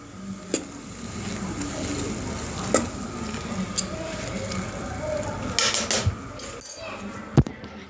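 A spoon clinks against a pot of cooking noodles, with sharp scattered metallic taps and scrapes over a soft, continuous sizzle and bubbling, louder strikes near the start and end.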